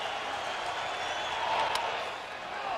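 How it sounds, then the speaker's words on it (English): A sellout baseball stadium crowd cheers with towels waving, a broad, steady roar filling the space throughout, with a commentator's voice faintly under it. "Sellout crowd catches its breath, rests their arms, and now they begin waving the towels again."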